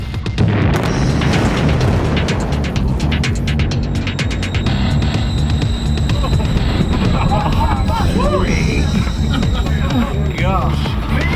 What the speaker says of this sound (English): Chemical explosions like this produce a powerful shock wave.